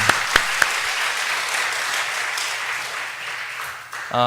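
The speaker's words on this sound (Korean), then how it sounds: "우리 기뻐하라 목장을 위해서 우리 격려의 박수 부탁드립니다." A church congregation at an afternoon service claps in encouragement, giving sustained, moderately loud applause from many hands that fades near the end before a voice starts.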